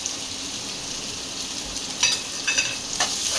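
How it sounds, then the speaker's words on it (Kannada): Finely chopped onion frying in oil with mustard seeds and white sesame, a constant close sizzle with a few sharper stirring scrapes and crackles near the end. "ಅದು ಸ್ವಲ್ಪ ಫ್ರೈ ಆಗಲಿ."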